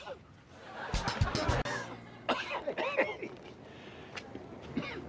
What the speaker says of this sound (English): It's a nasty cough you got there.